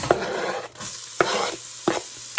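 Peas frying in sesame oil in a pan, a steady sizzle broken by three sharp stirring scrapes spaced about a second apart, close and fairly loud with no voices.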